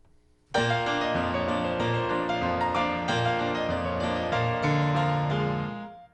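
Ragtime piano played with the sustain pedal: chords ring into one another in a sustained wash, notes blurring together without clear breaks, ending with a long fade.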